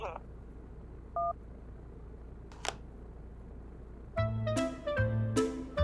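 Telephone keypad tones sound as a call is dialed, a short beep early on followed by quick bursts of dialing tones near the end, over a quiet room background.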